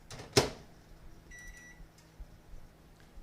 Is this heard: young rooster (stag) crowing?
no